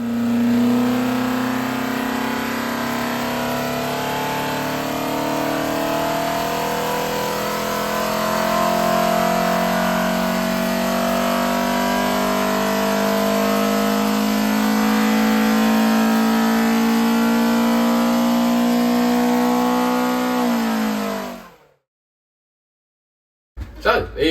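Ford Pinto engine fitted with a Kent cam and upgraded carb and exhaust, revving hard and sustained with a loud rising and falling roar for about twenty seconds before cutting off abruptly.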